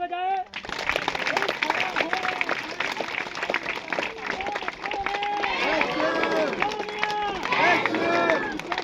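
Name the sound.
congregation clapping hands in church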